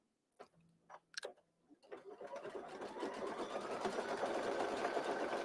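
Computerized quilting machine, a Baby Lock, stitching out a hand-stitch and background quilting design: after a few isolated clicks, a steady rapid mechanical stitching rhythm builds and runs continuously, close and fairly loud.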